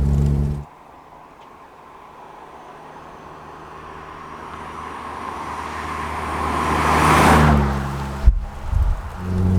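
A Morgan Plus 4 drives down a tree-lined road, a steady engine and road rumble that swells gradually as it nears, peaks loudly, then drops away abruptly with a brief knock.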